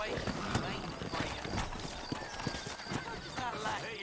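Hooves clop steadily while a horse whinnies in the video game Red Dead Redemption, with a person talking over the top.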